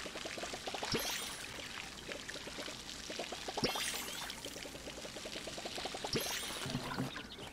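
Water poured onto crops in the video game Palia, a steady trickling splash broken into short repeated bursts, with a few brighter splashes standing out, fairly close and moderately quiet with no talking.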